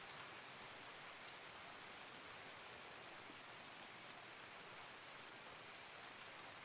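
Steady rain falls in the video game Escape from Tarkov, a dense, even hiss of drops on surfaces that stays constant throughout, fairly faint and with no voices.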